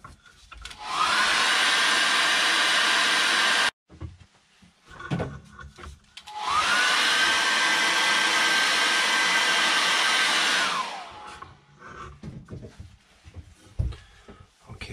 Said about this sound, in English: what I'm going to do is just dry that with a hairdryer